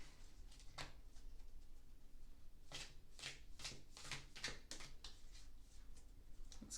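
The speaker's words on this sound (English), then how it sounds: "Let's give this one more regular shuffle." Tarot cards being shuffled by hand in a quiet room: a brief riffle near the start, then a run of repeated crisp riffling bursts close to the mic, with no talk.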